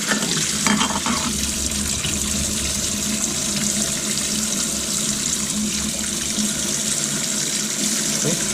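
Tap water runs steadily into a sink while rinsing the filter of a titanium camping coffee maker, a continuous close splashing hiss throughout.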